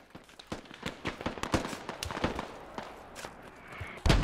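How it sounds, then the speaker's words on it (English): Incoming mortar and artillery fire in the military shooter Squad, a rapid series of sharp cracking blasts and distant thumps at uneven intervals, with one heavier close impact near the end. "Alright, mortars coming in."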